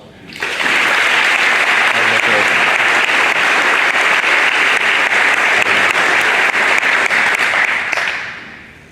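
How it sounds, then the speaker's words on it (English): Sustained audience applause fills a hall at an NJROTC change of command ceremony, a dense steady wash of clapping that swells in quickly, holds loud for about seven seconds, then fades out. "I would like to ask if you join me around the applause"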